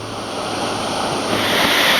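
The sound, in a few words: waterfall pouring down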